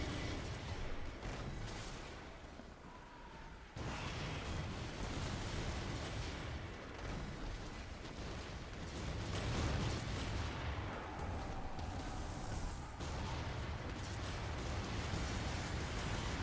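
Fire bomb explosions in the naval combat game Skull and Bones, heard as a dense, sustained rumble of blasts and booming fire over roughly sixteen seconds, fairly loud and continuous with a brief dip partway through.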